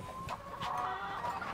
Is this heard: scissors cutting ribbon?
no